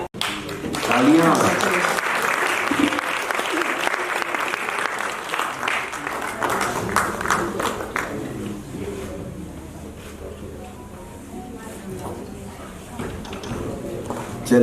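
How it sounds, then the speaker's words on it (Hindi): An audience applauds at a theater festival prize distribution, strong at first and then gradually thinning out as the clapping tapers off, with background chatter and room noise underneath. "तालियां।"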